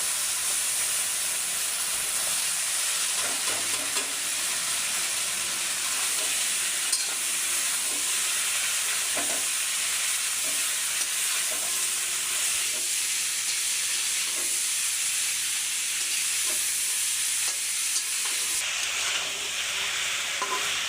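Gosi fish and potatoes being sautéed together in a pan, a continuous dense hissing sizzle with soft stirring scrapes throughout, fairly loud and close with no voices.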